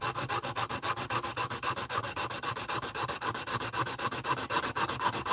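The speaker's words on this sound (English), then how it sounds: "I put my sandpaper on a popsicle stick." Sandpaper wrapped on a popsicle stick rubbing a plastic model Nissan Z bumper, a close, even back-and-forth scratching in a quick regular rhythm, steady and alone without speech.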